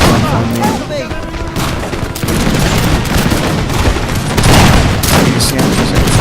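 Musket volleys crackle across a Napoleon Total War battle at Waterloo, dense overlapping gunfire and booms rolling continuously at full loudness, with a voice talking over the din.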